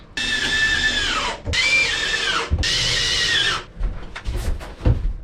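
Power driver sinking screws into a wooden boat's timber, three whining bursts that slow and drop in pitch as each screw tightens, followed by clattering handling knocks.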